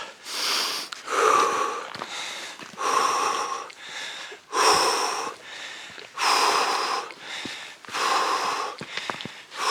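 Heavy breathing from a person during a mountain training exercise, a series of loud, rhythmic, close gasping breaths with harsh sniffs and wheezes, roughly one every second, with no talk.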